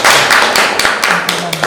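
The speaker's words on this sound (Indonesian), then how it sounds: "Beri tepuk tangan buat Berian ya" A classroom audience claps for a student, a steady patter of many hands lasting under two seconds, fairly close and even throughout.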